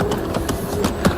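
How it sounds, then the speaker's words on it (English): A steady rolling rumble with faint rhythmic clicks of suitcase wheels bumping over paving joints, close by and continuous. "The sound you can hear is a suitcase"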